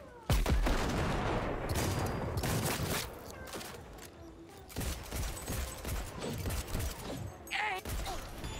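Rapid shotgun blasts and gunfire in Cyberpunk 2077, a loud opening shot followed by dense, overlapping bursts of firing and impacts that carry on continuously through the combat.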